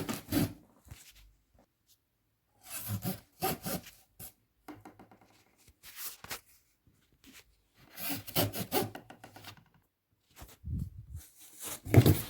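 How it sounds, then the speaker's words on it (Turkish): Cardboard box edges being cut, heard as repeated short bursts of scraping, rasping cuts separated by quiet pauses, close-up and without speech. "Bakın kolinin kenarlarını tamamen kestim."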